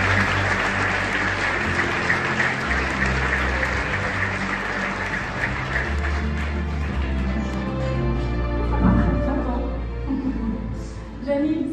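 Sustained applause from the audience at the 2025 Vélo d'Or cycling awards ceremony fills the room for the whole stretch, with low music underneath and a brief rise in cheering near the end.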